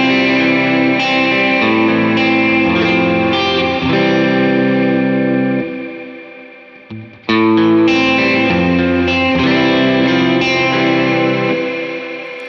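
An electric guitar played through a four-pedal chain with darkened reverb rings out in sustained chords and notes, with a brief near-silent pause at midpoint before the dense playing resumes, loud and alone.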